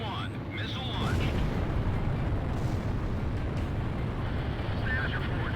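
A missile explosion in the jet combat game Ace Combat Zero rumbles as a continuous loud roar, with radio voices and warning tones heard over it.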